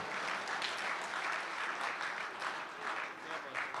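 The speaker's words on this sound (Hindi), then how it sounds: "ताली बनती थी।" An audience applauds at a Hindi-Urdu poetry recital during a Republic Day kavi sammelan and mushaira, a steady wash of clapping from many hands in a hall, continuous and fairly even with faint voices mixed in.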